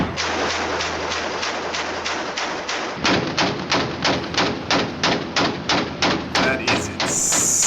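A Mk-38 25mm chain gun fires a long, steady string of heavy, evenly spaced rounds, each a booming thud in a fast regular rhythm, loud and close, continuing for several seconds after an initial stretch of muffled sound.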